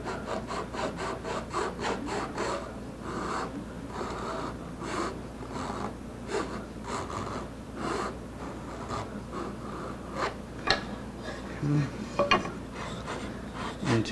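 Wood being filed by hand to reset the neck angle on a Martin 00 style acoustic guitar, a steady run of close rasping strokes with brief pauses and a few louder knocks near the end.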